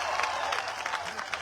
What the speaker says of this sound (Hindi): जोरदार तालियों से फारूक शाब्दी का इस्तकबाल करिएगा